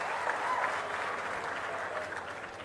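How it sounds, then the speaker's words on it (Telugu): Applause at an official government review meeting with the Chief Minister, honoring a district's best performance; a brief burst of steady clapping from a group in a hall, moderately loud, with no talk over it. "గట్టిగా చప్పట్లు కూడా అభినందించండి."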